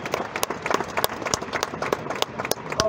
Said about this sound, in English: Please, you may stand and please give them a round of applause.